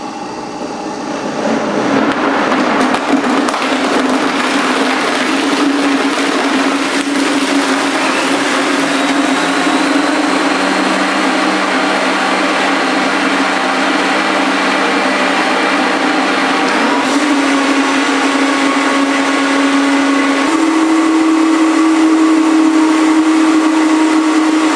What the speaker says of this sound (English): once you hear the Vitamix change sort of that motor sound, you know it's doing its job